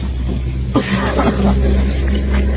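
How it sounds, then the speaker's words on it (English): A man recovering from a cold gives a short, harsh cough that sits close over a low background hum. "I'm off of a cold and I cough a lot."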